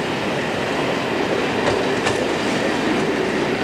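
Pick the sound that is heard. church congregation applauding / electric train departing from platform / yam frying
electric train departing from platform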